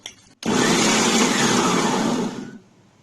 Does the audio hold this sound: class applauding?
no